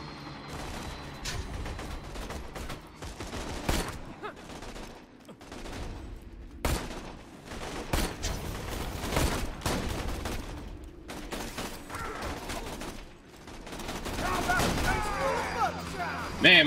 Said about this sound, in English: my shotgun's getting criticals on these guys